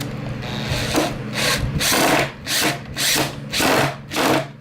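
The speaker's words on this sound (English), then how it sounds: "Line it up, get it where you want it, and then start putting the screws in." Screws being driven into wood with a power drill to fasten wheels onto a 2x4 cart frame; about five close, loud bursts of whirring drill noise with short pauses between them.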